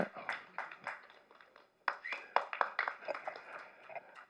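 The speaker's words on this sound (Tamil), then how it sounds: "உங்களுக்கு நீங்களே கைத்தட்டிக்கிங்க" Audience clapping at a Tamil film audio and trailer launch, a loose burst of hand claps that fades briefly, then swells again in a denser round of applause.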